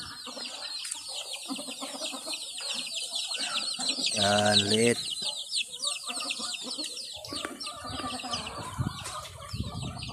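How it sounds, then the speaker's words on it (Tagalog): A flock of chickens clucks and chatters continuously nearby, with a brief louder squawking burst midway; a voice speaks briefly over the birds. "Ibang klaseng manok to guys, oh."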